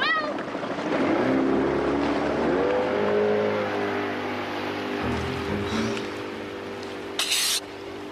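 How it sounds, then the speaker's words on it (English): A boat motor starts and drones on, a loud steady engine note rising in pitch at first then holding, with water noise and a voice briefly speaking over it. "Now start the motor."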